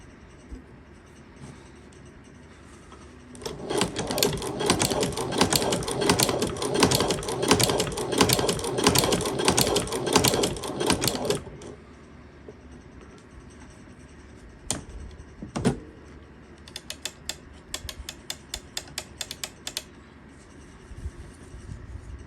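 A Cobbler Shoe Mender leather sewing machine stitches leather at a longer stitch length: a loud, rapid mechanical clatter runs for about eight seconds, then falls quiet before several shorter, lighter bursts of stitching follow.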